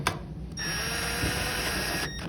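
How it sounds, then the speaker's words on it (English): Cordless driver runs a hover bolt down on an Estech FLEX cable cover, a steady whirring motor hum lasting about a second and a half with a brief start and stop, alone and fairly close. "you can use a cordless driver for that purpose"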